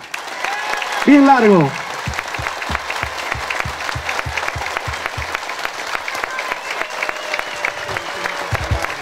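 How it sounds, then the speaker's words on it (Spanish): A crowd at a public handover event applauds the president in steady sustained clapping after a brief shout, continuing for several seconds with rhythmic claps and a voice speaking briefly over it. "quiero pedirles a todos un aplauso de 30 segundos para mi querido presidente"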